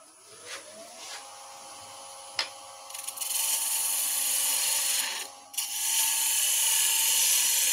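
A skew chisel cuts wood on a lathe while turning a pumpkin-shaped box, with a quiet start of light taps, then a sustained scraping, hissing cut that pauses briefly before continuing.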